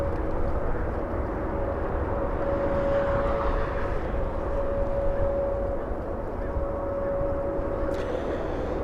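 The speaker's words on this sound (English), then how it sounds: "Southwest 1394 flying in from San Jose, California" Southwest Airlines Boeing 737 NG arriving at Los Angeles International Airport, a broad distant jet roar with a steady whine, rumbling continuously in the background.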